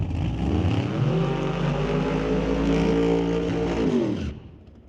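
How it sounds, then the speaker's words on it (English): Ford Mustang drag cars at a Smoke Fire and Thunder qualifying session, a loud, steady engine roar with rising harmonic tones, holding close for about four seconds before cutting off abruptly, with no talking. "And now a couple of Mustangs coming our way."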